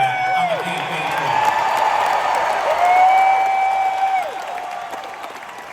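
Large rally crowd in Grand Rapids, Michigan, applauding, cheering and whooping continuously, loud and dense throughout, with scattered shouts rising over the roar.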